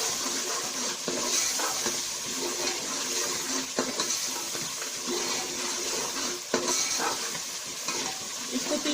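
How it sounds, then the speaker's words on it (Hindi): Spring onion, turmeric and chili fry in a pan while being stirred. A close, continuous sizzle runs throughout, with scraping stirs mixed in and no talking. "अब इसको थोड़ी देर भूनेंगे।"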